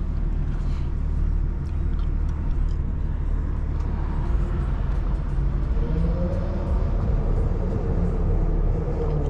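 A Toyota car passes by outside a moving BMW G80 M3 Competition, its engine and road noise swelling as a steady, fairly loud broadband rush with no talk.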